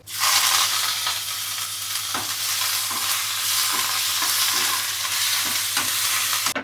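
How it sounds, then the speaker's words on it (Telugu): Cumin, mustard seeds, crushed garlic and curry leaves sizzle steadily in hot oil for a Telugu pappu charu tempering, a continuous close frying crackle with occasional stirring clicks and no talking. "కొంచెం జీలకర్ర, కొంచెం ఆవాలు, ఓకే, దంచి పెట్టుకున్న వెల్లుల్లిపాయలు, ఓకే, కరివేపాకు వేసుకుందాం"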